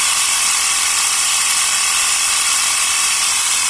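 A portable air pump compressor runs with its cylinder hot, giving off a loud, steady mechanical whir and rattle that holds constant and close throughout, with no voices.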